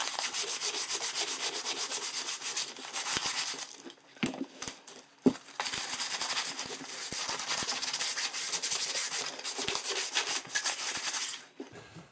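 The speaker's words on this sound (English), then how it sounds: "try to degloss this surface with some sandpaper." Sandpaper rubs back and forth across the hard glossy surface of a 20-gauge shotgun, a close, steady scratchy hiss broken by a few short pauses and light knocks.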